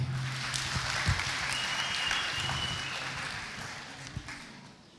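A church congregation at a Sunday service applauds in a sustained wash of clapping that slowly fades, fairly distant and without speech.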